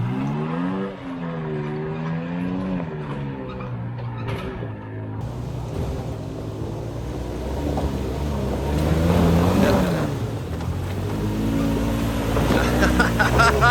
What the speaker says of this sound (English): we gave Steve a shot in his Tacoma. That thing is a beast